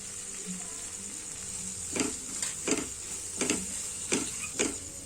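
Grated coconut added to oily masala in a pan gives a steady faint sizzle, with a few sharp scraping stirs of a spoon or spatula at an irregular rhythm toward the end.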